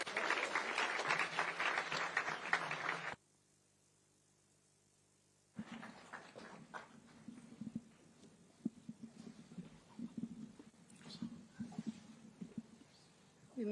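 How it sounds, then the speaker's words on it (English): Audience applause welcoming the chief guest, the First Lady of Kenya, at a formal event: dense clapping, then a brief near-silence, then softer scattered clapping mixed with crowd murmur. "Thank you, and with a hand clap."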